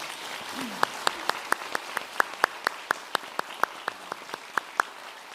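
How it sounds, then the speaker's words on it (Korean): Sparse, steady clapping of a few hands from a church congregation in a large room, a regular beat of sharp claps with a low murmur underneath. "우리 인사할 때 박수 한번 해주시겠습니까?"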